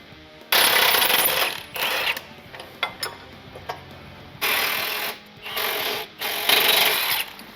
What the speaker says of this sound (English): We're already cutting bolts.